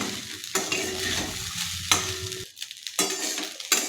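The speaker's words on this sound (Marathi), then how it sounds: "कमी गॅसवरती व्यवस्थित मिक्स करून घेऊया" Lemon rice is stirred in a pan over low heat. A spoon scrapes through the grains in repeated strokes over a soft, steady sizzle, close and clear with no talking.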